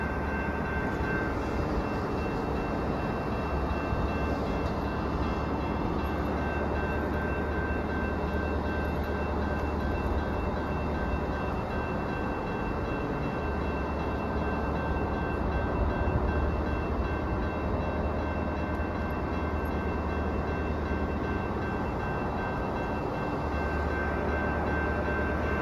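An Amtrak train hauled by an ALC-42 locomotive, number 339, passes close by with a steady, loud rumble and drone of rolling wagons, sustained for the whole stretch with no voices.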